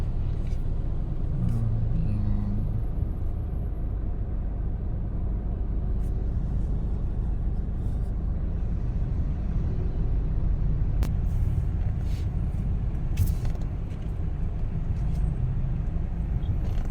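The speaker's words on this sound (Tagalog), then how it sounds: "Tingnan nyo kagano ka-traffic." Traffic on a city street in Cagayan de Oro, Philippines, with a continuous low engine rumble from passing cars and buses and occasional louder whooshes.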